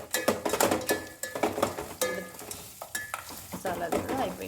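Cooked curry is stirred into a sizzling tempering in a pan, with repeated rhythmic scraping strokes and clanks of a spoon against metal over a steady frying hiss, close and loud.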